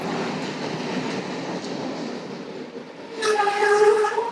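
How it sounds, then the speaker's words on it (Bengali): A train pulls into a station in Sri Lanka with a steady, rumbling roll, then a loud, sustained horn blast sounds near the end. "ট্রেন চলে এসেছে আমাদের।"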